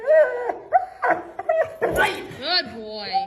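A dog whines, whimpers and lets out short yips and barks in quick succession, close to the microphone, while a person talks over it.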